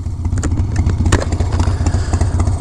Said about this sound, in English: this bike here is a 91 Dyna Glide Sturgis edition